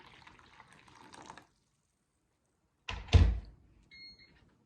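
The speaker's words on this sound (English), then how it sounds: "I'm gonna do 2 cups of boiled water." Boiled water pours from a kettle onto cranberries: a hissing rush of liquid, a pause, then a short loud splash, followed by a faint clink.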